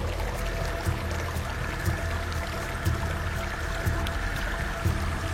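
Water in a stream in an animated children's story splashes in a steady rhythm about once per second, with a continuous watery wash underneath.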